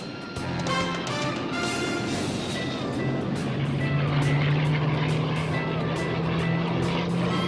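A P-51 Mustang propeller plane making close flybys, a loud continuous engine drone with a rising tone as it sweeps past, alone and without talk.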